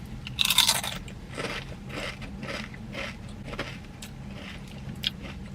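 Potato chips crunch loudly and close to the ear during a Panera Bread meal, in a steady series of crisp bites and chewing with no talking.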